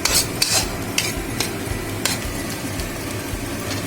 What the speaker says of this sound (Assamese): আলুটো দি অলপ লৰাই থাকিব।